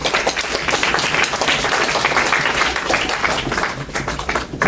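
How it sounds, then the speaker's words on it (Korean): Students at a high-school career lecture clap together in a dense, steady burst of applause that fills the room for several seconds, then starts to thin near the end. "자, 그리고 우리 박수 한번 치죠."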